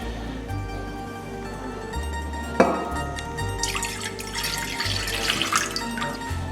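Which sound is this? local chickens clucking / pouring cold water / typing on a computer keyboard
pouring cold water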